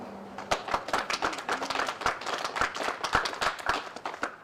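Applause from a pageant audience honouring contestants at the Miss Navajo Nation event, a steady patter of many hands clapping with sharp individual claps standing out, sustained throughout at moderate loudness.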